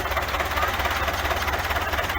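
A Belarus 520 64 hp tractor engine runs at a steady idle nearby, with a low, rhythmic diesel throb and mechanical knocking throughout.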